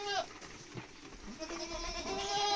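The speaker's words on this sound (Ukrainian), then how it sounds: "Кози напасла, пригнала. Їсти їм всипала." Goats bleat while being fed at home, a few close wavering cries rising over soft rustling and chewing sounds in a farmyard pen.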